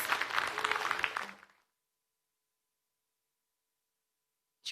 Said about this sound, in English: Everyone give Princess Cassidy a round of applause.